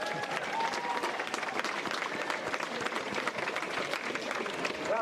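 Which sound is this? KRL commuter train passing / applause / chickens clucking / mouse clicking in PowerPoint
applause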